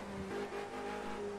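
A race car engine drones steadily in Project Cars 2, a sustained mid-pitched motor hum with slight revving, fairly quiet and with no talk over it.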